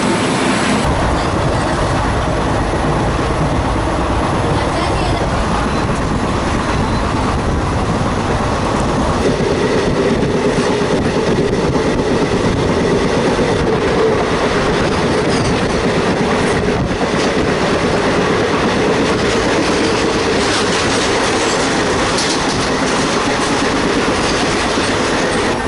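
A train runs along rails in India with a loud, continuous rumble and rhythmic clickety-clack of wheels over track joints, heard from inside a fan-cooled carriage and steady throughout.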